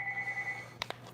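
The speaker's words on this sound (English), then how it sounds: "Oh, there's the phone." A telephone rings with one short electronic tone burst, fairly faint, followed by a few soft clicks.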